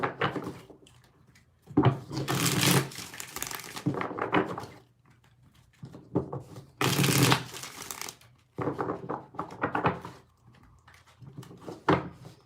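Tarot cards being shuffled by hand, several bursts of riffling and sliding card noise separated by short pauses, close and fairly loud with no voices.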